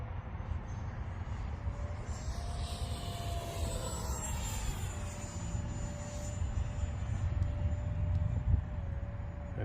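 A Freewing 64mm F-22 RC jet with a 12-blade electric ducted fan flies at about half throttle outdoors in the wind. Its thin high whine shifts in pitch as it passes over a steady rumble of wind.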